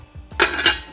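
A metal lid clanks down onto a pot of Jamaican chicken foot soup, two quick bright clinks close by with no talking.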